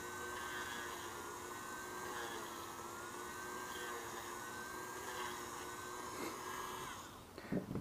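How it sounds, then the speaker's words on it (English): A Dremel rotary tool grinds inside the nozzle of a KWA LM4 airsoft bolt carrier group, giving a steady, close, high-pitched whine that holds evenly for several seconds before cutting off with a few small clatters. "take the back of your nozzle, remove the plug, and just kind of stick your Dremel in there and rotate it"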